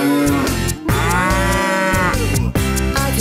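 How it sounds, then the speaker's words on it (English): A cow moos in a children's action song, long tonal lowing calls set over steady rhythmic music with no talking. "I can moo like a cow to the music."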